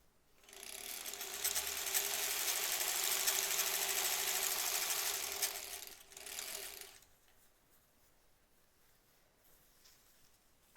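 A sewing machine stitching face masks runs in one steady whirring, rattling burst for about six seconds, then gives a short second run before stopping and leaving near silence.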